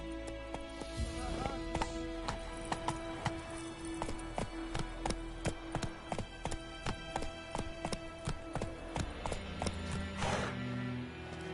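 Horse hooves in The Witcher 3: Wild Hunt video game, a quick regular run of clip-clop strikes at a galloping pace, close and clear over a soft ambient bed.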